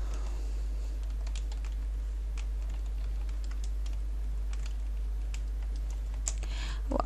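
Keys clatter steadily on a computer keyboard while C# code is entered, a soft continuous run of taps over a constant low hum, with a slightly louder burst of keystrokes at the end.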